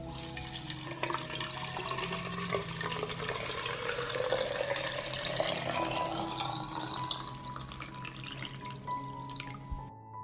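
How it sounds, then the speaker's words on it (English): Boiling water poured into glass jars for preserving tomatoes: a steady, close rushing pour lasting about ten seconds, its pitch rising as the jar fills, then stopping abruptly. "This is how I pour the boiling water into the jars."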